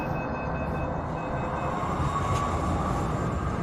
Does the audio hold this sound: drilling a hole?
no